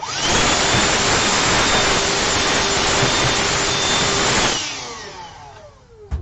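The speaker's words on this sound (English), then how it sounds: "Hoover time. I'm not going to mute it this time." A Hoover vacuum cleaner roars loud and close with a steady whine for several seconds, then is switched off and winds down to quiet.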